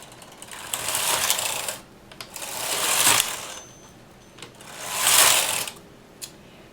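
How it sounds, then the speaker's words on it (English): A domestic knitting machine carriage sweeps back and forth across three rows for a buttonhole, giving three loud mechanical rattling passes with short pauses between them, close by and with no talk. "So I'll put my edge weight hanger on in there and put a small weight on it and knit 3 rows."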